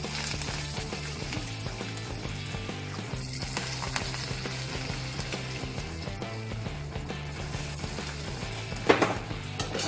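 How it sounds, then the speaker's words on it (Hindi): Hot tempering is poured over dal dhokli in a home kitchen and sizzles with steady crackling frying noise. Background music plays throughout, and a brief clatter comes near the end. "अब ये फोड़नी हम इसके ऊपर डालेंगे।"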